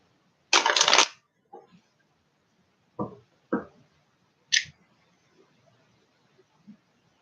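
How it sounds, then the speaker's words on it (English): A short riffle of cards being shuffled, followed by a few scattered taps and soft clacks against a quiet background. "I'm going to go ahead and shuffle that."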